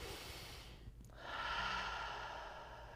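Slow, easy breaths drawn in and let out close to the microphone during a calming breathing exercise, soft and unhurried with a brief pause before a longer exhale.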